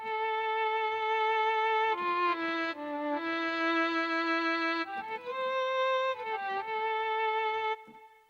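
Mellotron violin solo sample played through a Boss RE-202 tape echo, a sustained bowed-string melody with shifting held notes and audible reverb wash, loud and alone before fading at the end.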